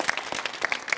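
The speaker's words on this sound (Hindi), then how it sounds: "पहले इन दोनों के लिए एक बार जोरदार तालियां।" An audience at a youth debate event breaks into loud, rapid clapping for two participants, a brief burst of dense applause heard close with no talk over it.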